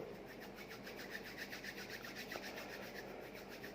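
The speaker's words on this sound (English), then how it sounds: "Then rub your palm to palm with cross finger" Palms rubbed together with fingers crossed during handwashing make a faint, continuous close-up swishing friction with a quick rhythmic pulse, with no talking.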